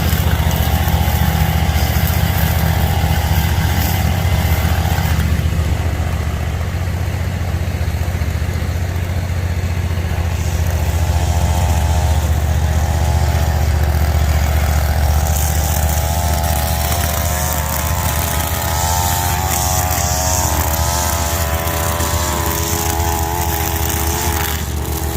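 A lawn mower engine runs steadily and loudly throughout, a continuous close droning hum with a wavering, slightly uneven tone in the middle and later stretches.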